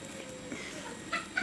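A chicken clucks faintly a couple of times near the end, two short cackles over a steady room hum.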